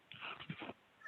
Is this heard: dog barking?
yes